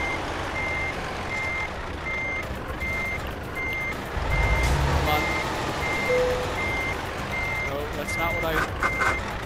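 Truck reversing alarm in the Euro Truck Simulator 2 video game, a steady series of regular beeps running throughout over a low engine rumble, with someone talking intermittently.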